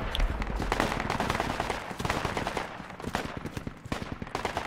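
Gunfire in Project Reality, a tactical military shooter: rapid bursts and single cracking shots from several weapons, loud and nearby, pop irregularly in a dense, ongoing firefight.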